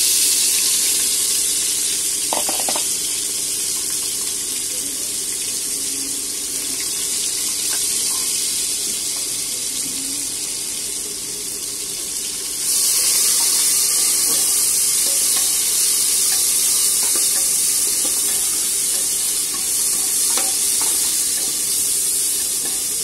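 Chopped onions sizzling in hot oil for aloo biryani, a steady hiss that holds the whole time and gets brighter and louder about halfway through, with faint clinks, no voices.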